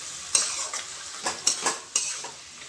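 A utensil stirs and scrapes food frying in a pan, making a few quiet, irregular clicks and scrapes over a faint sizzle, close by and without voices.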